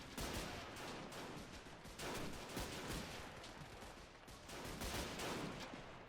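Dense, continuous gunfire from a Men of War: Assault Squad battle as US Marines defend against a Japanese SNLF beach landing at Guam in 1941, with overlapping bursts and volleys.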